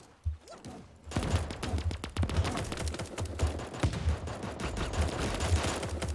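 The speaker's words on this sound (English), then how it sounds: "Ooh, I hear gunshots." Rapid bursts of gunfire from an enemy squad in Deep Rock Galactic crackle continuously, dense overlapping shots mixed with low thuds, fairly loud and without talk.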